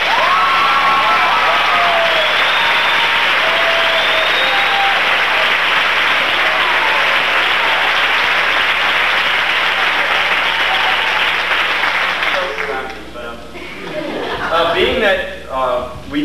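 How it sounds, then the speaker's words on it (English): Sustained applause from a large audience, loud and steady for most of the stretch, fading near the end as voices begin talking over it. "join me in another round of applause for these fine gentlemen"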